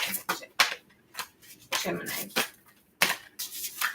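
Tarot cards being shuffled close by, in quick papery riffling bursts with short pauses between them, with a voice briefly heard alongside.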